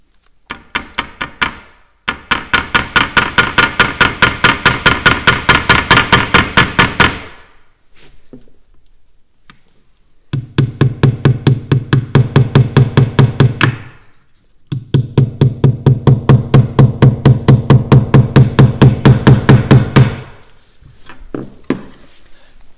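Nail driven into a wooden cross with a hammer in three long runs of rapid, even blows separated by short pauses, loud and close, with a few scattered taps at the end.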